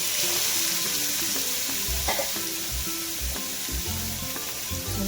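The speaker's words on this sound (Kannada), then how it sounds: "ಇದನ್ನ ಹಾಕ್ಕೊಂಡು ಫ್ರೈ ಮಾಡ್ಕೊಳ್ಳೋಣ." Six eggs frying in a spoonful of ghee in a pan, a loud, constant close sizzle with occasional utensil knocks and stirring scrapes.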